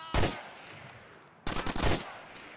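Gunfire in the video game GTA IV: The Ballad of Gay Tony, with a loud single burst followed by a pause and then a rapid, sharp volley of automatic shots, close and punchy.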